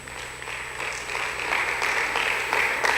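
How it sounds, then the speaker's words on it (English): An audience applauds participants from Oshogbo Grammar School at a school debate event, a steady wash of clapping that holds through and swells slightly toward the end. "Let's give them a round of applause."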